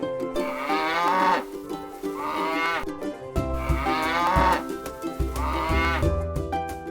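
A cow on a farm moos in long, loud, close calls, four drawn-out lowing sounds separated by short gaps, with no other voices.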